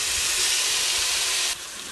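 Two strips of bacon sizzle in an oiled pan in a chicken stew preparation, a loud, dense, continuous hiss close by that drops sharply in level near the end, with no voices.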